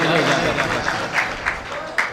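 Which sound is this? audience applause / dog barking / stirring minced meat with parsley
audience applause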